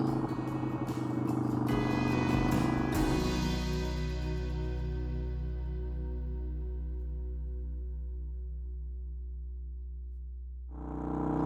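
A Harley-Davidson Sportster motorcycle engine revs loudly up close, then settles into a deep, steady idle rumble before briefly revving again at the end.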